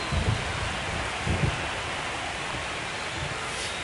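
Steady, hissing rain pours over Citizens Bank Park in MLB The Show 25, a dense, even wash of sound with a few faint low rumbles underneath.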